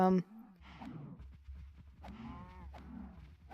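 Cows moo in the video game Minecraft, one short bleat followed by a few deep, drawn-out lowing calls close by, alone without talk.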